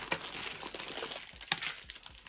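A plastic postal parcel bag is being opened up close, giving a series of crinkling and rustling bursts with a few sharper tearing crackles over about two seconds.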